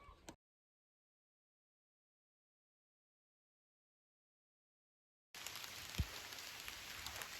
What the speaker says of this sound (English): just to prove that it does rain in Spain, it's pouring down at the moment